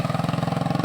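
A motorcycle engine idles outdoors during Typhoon Marce in 2024, a steady, rapid, even throb that runs unbroken at a fairly close, moderate level with no voices.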